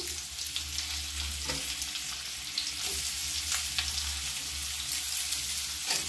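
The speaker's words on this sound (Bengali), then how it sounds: "তেল দিয়ে আমি এখানে পেঁয়াজটা দিয়ে দেব।" Chopped onion sizzles and fries steadily in hot oil in a pan, a continuous broadband hiss with occasional stirring clinks, close and fairly loud with no talking.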